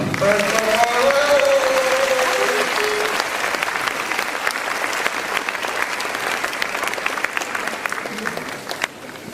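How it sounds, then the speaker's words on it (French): A pageant audience at the Miss Midi-Pyrénées election claps steadily for about nine seconds, a broad, even roar of many hands that continues after a voice speaks over the opening moments. "on peut applaudir"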